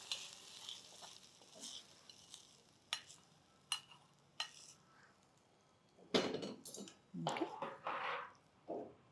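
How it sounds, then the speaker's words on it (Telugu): A spoon stirs a sizzling tempering into curd for yogurt rice. Quiet scraping and wet squishing sounds come in irregular strokes, with louder clattering stirs near the end and no talking. "తాలింపుని పెరుగులో చక్కగా కలిపేసి"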